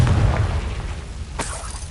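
A Confringo spell bursts in Hogwarts Legacy as a single deep boom with a short crackling tail, loud and close, fading quickly with no voices over it.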